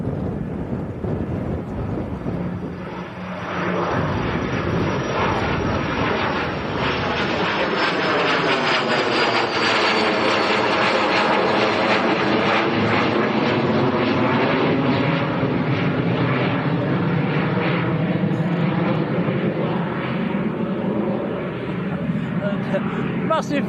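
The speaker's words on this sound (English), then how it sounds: "the little German citation, just getting airborne rather early" A small German Cessna Citation business jet lifts off at Manchester Airport. Its loud engine whine rises and sweeps past with a shifting, phasing roar, then holds as a strong, steady rumble while it climbs away.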